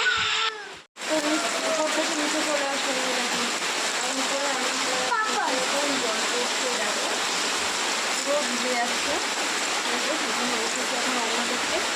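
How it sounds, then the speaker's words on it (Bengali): Heavy storm rain pouring and splashing onto a home veranda, a dense, steady, close roar of water that fills the whole time, with voices talking over it. "থেকে জল দেখা পুরো ছিটে ছিটে আসছে"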